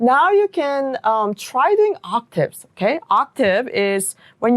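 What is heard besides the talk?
No distinct noise like a dog, phone or traffic.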